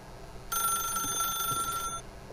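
A single sustained burst of electronic telephone ringing in The Stanley Parable starts abruptly and runs about a second and a half before stopping, clear and loud with no voices.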